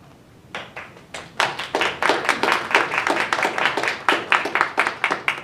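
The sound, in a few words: applause at a library board meeting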